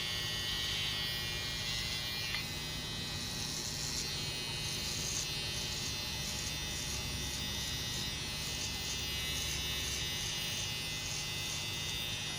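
An electric clipper trims a beard short, giving a constant close buzzing drone that holds steady and loud throughout, with slight shifts in tone as the blade moves through the hair.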